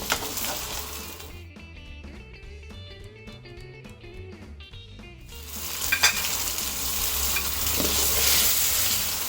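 Lemon pepper chicken fries in a pan with a steady close sizzle, broken by a quieter stretch of clattering, then returning loud and crackling as the pieces are flipped.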